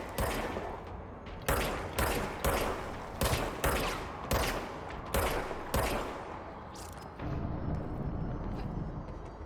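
Gunfire in the video game Control: a string of loud, close bursts of rapid shots in quick succession, separated by short gaps, ending in a louder rumbling stretch of continuous firing.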